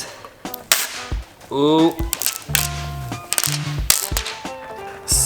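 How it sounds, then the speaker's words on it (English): Protective plastic film being peeled off a new Onewheel+ XR fender, a series of sharp crackling rips and snaps in bursts, with a person making a brief exclamation in between. "Got some nice plastic to peel off."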